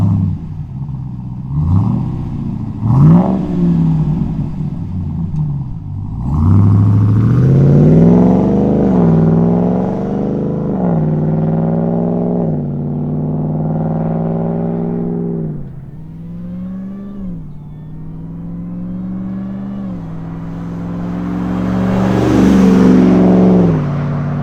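RAM 1500 TRX pickup fitted with an MBRP 3-inch dual rear exit cat-back exhaust, revving hard in repeated swelling bursts, then pulling away with rising pitch through gear shifts, loud and close.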